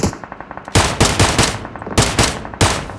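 Rapid automatic gunfire blasts loud and close in a battle royale video game, several sharp bursts of shots cracking in quick succession with brief pauses between volleys.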